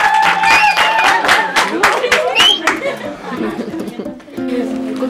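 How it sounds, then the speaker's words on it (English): A school audience claps in a burst of sharp, rapid applause mixed with chatter and a few chuckles, fading after a few seconds into quieter murmuring. "Give him a round of applause."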